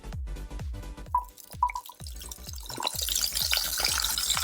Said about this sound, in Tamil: இப்போ ஒரு பேனில் 1 ஸ்பூன் அளவுக்கு எண்ணெய் ஊற்றிக்கோங்க